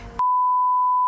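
A single steady electronic censor beep, loud and unbroken for about a second, following a brief moment of muffled sound.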